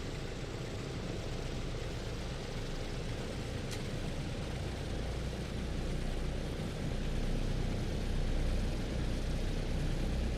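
Steady, dense rumble of a Douglas DC-6 piston propeller engine running in a flight simulator, droning evenly throughout with a slight swell near the end and no voices.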